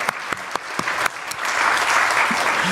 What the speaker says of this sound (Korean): 우리 하나님께 감사의 박수를 올려 드리시겠습니다